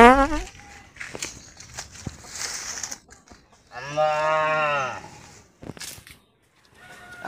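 A cow moos in a long, loud, drawn-out call near the middle, with short bleats and rustling around it and brief shouting voices nearby at a cattle trader's.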